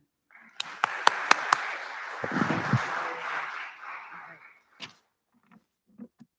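Audience applause at a leadership conference, several sharp claps at first, then a dense burst of clapping that builds and fades over a few seconds before scattered final claps, heard alone.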